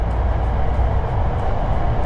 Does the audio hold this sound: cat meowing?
no